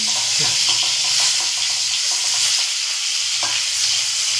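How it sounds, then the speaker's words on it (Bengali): Bacha fish fry in a covered pan with pointed gourd and potato, a loud, steady, close sizzling hiss that runs unbroken with a few faint pops. "মানে মাছটা ভাজা হয়ে গেলে শান্তি"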